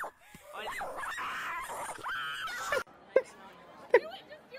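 A dog yips and whimpers in short, high screeching cries, several bursts over a continuous background with laughter or voices mixed in.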